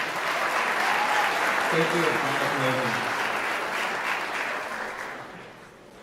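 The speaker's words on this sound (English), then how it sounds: "How about one more round of applause" Applause from the audience at a National Honor Society induction ceremony, a sustained crowd clapping that fills the room while a voice speaks briefly over it, then fades away toward the end.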